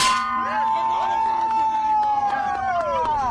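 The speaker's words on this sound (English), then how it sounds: "Ring the bell? Yes. Okay, let's ring the bell." A bell rings at Burning Man, a long sustained clanging tone with repeated strikes over about three seconds, with crowd noise behind it.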